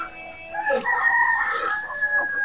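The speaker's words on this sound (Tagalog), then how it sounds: "So, dyan yung manok." A rooster crows a single drawn-out cock-a-doodle-doo from fairly close by, holding a strong, bright tone over quiet outdoor background, with no talking.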